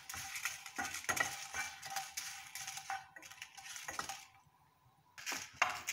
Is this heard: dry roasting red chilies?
yes